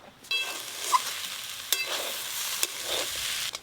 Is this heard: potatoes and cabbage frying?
yes